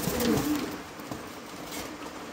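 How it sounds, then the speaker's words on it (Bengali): A pair of pigeons coo close by in a loft, a short soft, low cooing phrase at the start fading into a quiet background. "দেখার মতন একজোড়া কবুতর, ডিজেলটা হচ্ছে নর, কালোটা হচ্ছে ফিমেল"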